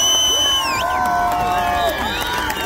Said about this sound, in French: Et donc applaudis-le, hein.